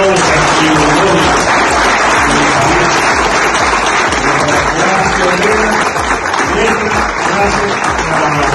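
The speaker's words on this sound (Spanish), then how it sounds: "un aplauso a todos los testimonios." Audience at a national commercialization meeting in a Venezuelan venue applauds, a loud sustained clapping heard alongside amplified speech and a reverberant hall tone throughout.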